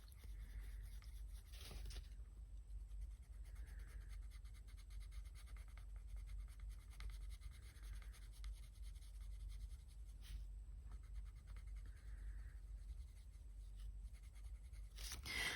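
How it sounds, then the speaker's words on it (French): Soft, continuous scratchy rubbing of a Luminance colored pencil on paper, close and quiet, with a few brief louder scrapes. "j'aime pas le bruit qui font les luminances sur ce papier"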